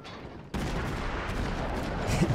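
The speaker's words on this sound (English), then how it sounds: "I'm just going to keep firing at him." Naval guns firing in World of Warships, a sharp onset after a quiet start followed by sustained booming gunfire and rumbling explosions, loud and dense with a heavier blast near the end.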